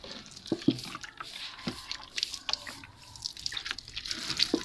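Water sprinkled over dried-out garden plants such as spinach, grapevine and basil on a winter morning: soft, close patters and drips scattered irregularly over a quiet background, with no speech.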